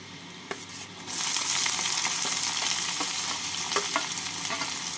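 Chopped onions fry with garlic in a pan: after a few quiet taps, a loud hissing sizzle bursts in and holds steady, broken by occasional stirring scrapes, with no talking.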